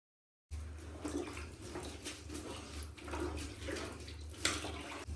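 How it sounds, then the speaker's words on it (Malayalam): A faded dress is lowered into a hot fabric dye solution, giving a continuous watery swish and slosh over a steady low hum, with no voices. "ഇത് നമുക്ക് ഈ സൊല്യൂഷനിലേക്ക് ഇട്ട് കൊടുക്കാം"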